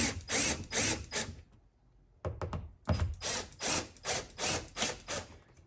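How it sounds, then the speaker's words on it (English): Screws are driven into a wall to fix a quick release mount, with short bursts of a rhythmic ratcheting, rasping sound repeated in a steady series around a brief pause, close and fairly quiet. "I'm just going to push the quick release towards the wall and then start screwing in the screws"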